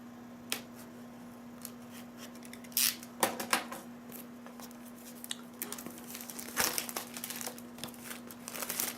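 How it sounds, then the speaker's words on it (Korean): A knife scraping and poking at the plastic shrink wrap on a Windows 7 retail box, giving scattered crinkles, snips and sharp ticks, close and quiet, with a couple of denser bursts of rustling. "칼이 칼이 비닐을 못 찍고 있어"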